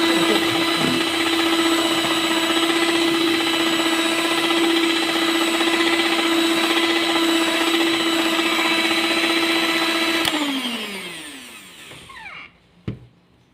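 Electric mixer beating sugar and four room-temperature eggs into a creamy cake batter drones with a steady loud motor whine for about ten seconds, then winds down and stops, followed by a brief clunk.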